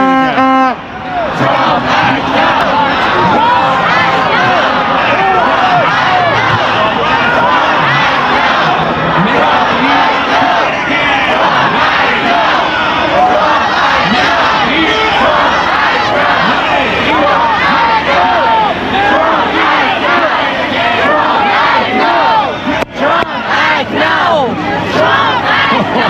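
A large pro-Reza Pahlavi Iranian protest crowd chanting outside the US consulate in Toronto, loud massed voices shouting in rhythmic waves, close and continuous throughout with no pauses.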